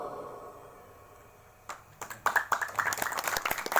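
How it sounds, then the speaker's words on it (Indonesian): An audience at an anniversary event breaks into scattered clapping after a quiet start, building into a dense burst of applause over the last two seconds. "Tepuk tangan."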